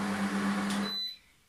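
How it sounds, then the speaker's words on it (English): An Optimum 9200A blender runs on its slow setting while making almond butter, a steady close motor whine and grind that cuts off sharply about a second in, leaving near silence. "I'm gonna let it blend on slow"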